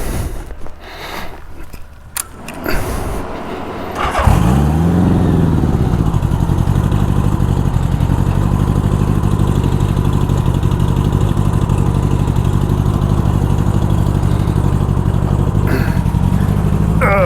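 A 1984 Honda Goldwing motorcycle in poor running condition, its engine firing up with a burst after some shuffling and then running steadily and loudly at a rough idle for the rest of the ride start.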